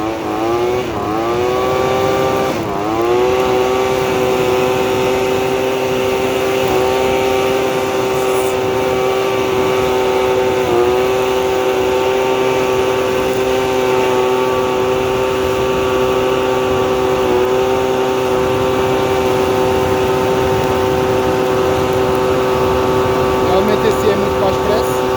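A leaf blower runs loud and close while blowing on a garden fire's embers, its engine revving up sharply at the start, then holding a steady high whine for a long stretch with slight dips.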